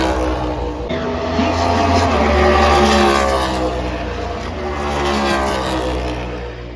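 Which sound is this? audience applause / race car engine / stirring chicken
race car engine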